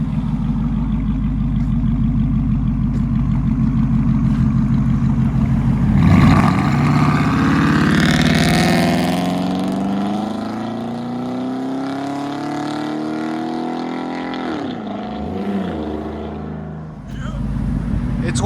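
RAM 1500 pickup with a 5.7L HEMI V8, shorty headers, true duals and stock cats, rumbling loudly at idle and then revving up into a rising, droning exhaust roar as it pulls away and fades.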